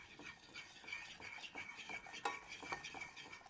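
A spoon or whisk scrapes and taps against a bowl while flour is worked into melted butter, giving quiet, close, rhythmic stirring clinks that repeat throughout.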